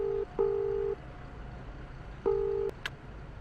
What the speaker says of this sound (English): You quickly pulled out your cell phone and called up the apartment company.